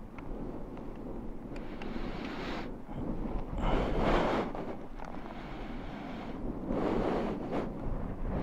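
Strong wind buffets an outdoor microphone, a loud continuous rumble that surges in gusts, heaviest in the middle and again near the end, with no voices.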